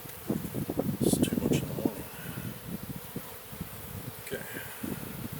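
Honey bees buzz around a tulip beehive on an autumn morning, a soft continuous hum beneath close rustling and handling noises, with a person talking intermittently nearby.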